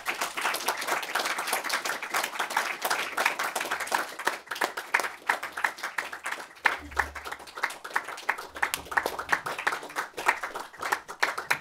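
An audience at a post-screening film talk applauds to welcome guests, a sustained crowd of hands clapping steadily at moderate volume from start to finish.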